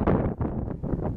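Gusty wind buffeting an outdoor microphone, a loud broadband rumble that surges and dips unevenly throughout, with no other sound standing out.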